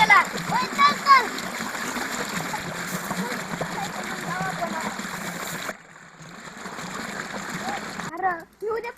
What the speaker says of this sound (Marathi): चल चल हातपाय धुवून घेऊ